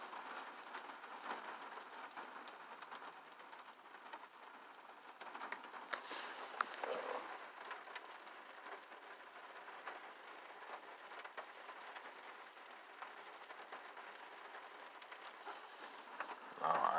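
Rain falls steadily outdoors in Virginia Beach, a continuous soft hiss of drops on surfaces, fairly faint, with a brief louder swell midway and a sharper rattle at the end.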